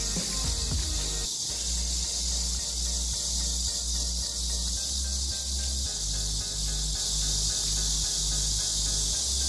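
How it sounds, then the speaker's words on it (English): A dense, high-pitched cicada buzz fills the air continuously and loudly in Beijing as rain starts, with a low rumbling hum underneath. "Listen to the cicadas as well, if you can hear them."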